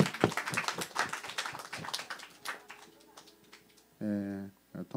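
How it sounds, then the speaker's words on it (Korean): An audience claps at a church Bible conference gathering: a brisk burst of hand claps that thins out and fades, followed by a voice. "박수하겠습니다."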